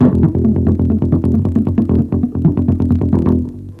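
Rapid, evenly spaced muted bass guitar plucks, a steady run of short percussive notes played fast and close with no voices.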